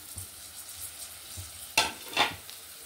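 Corn lands in a pan of frying onion and ginger-garlic paste, bringing a soft sizzle with two sharper bursts of frying as it is stirred in, fairly quiet and close.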